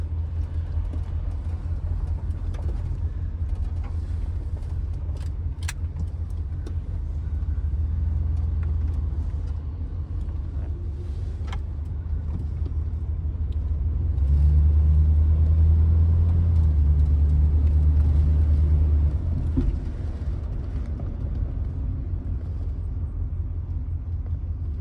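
A 1973 Chrysler Newport drives onto a highway with a continuous low engine drone and road rumble heard from inside, swelling louder midway as it accelerates, then settling back to a steady cruise.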